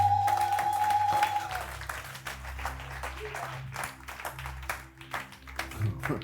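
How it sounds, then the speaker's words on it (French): A church congregation applauds during a Sunday sermon, scattered clapping swelling into a fuller ovation with cheering voices, while a sustained keyboard tone and low notes play underneath. "Est-ce que tu peux acclamer le Seigneur?"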